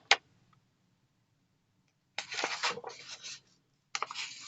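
An alcohol marker scratches across paper in short bursts of brisk coloring strokes, separated by quiet pauses, soft and close.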